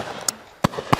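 Shotgun shots at a driven game shoot on Leighton Long Mountain, three sharp reports spaced apart, the last two loud and close, with quiet outdoor air between them.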